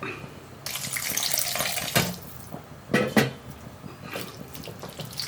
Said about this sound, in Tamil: இப்போ நான் வந்து ஒரு டம்ளர் தண்ணி சேர்க்குறேன்